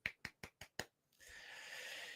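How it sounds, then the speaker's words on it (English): Five slow, sparse, light claps in an even rhythm, close and quiet, followed by a soft rising hiss of background noise. "Golf clap? Golf clap."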